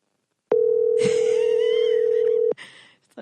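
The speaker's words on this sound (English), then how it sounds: "Why does it keep ringing and not going to voicemail?" A single long, steady ringback tone on a phone call, loud and unbroken for about two seconds, then cut off, with brief faint noise after.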